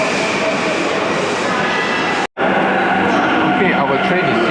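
A loud, steady roar of the Narita Express train arriving close by in Japan, broken by a brief sharp cutoff midway, then continuing with a whooshing rumble.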